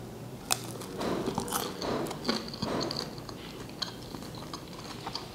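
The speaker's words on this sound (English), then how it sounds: "You heard that crunch?" Crisp crunching bites into a Pakistani samosa and chewing sounds crackle close to the microphone, several in a row over a few seconds, with no talking.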